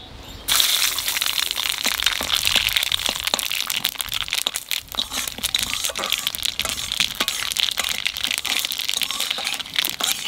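Mustard seeds and dried red chilies hit hot oil left from frying fish, bursting into a loud, dense crackle of sharp pops and spitting over a constant hiss that runs unbroken after a sudden start.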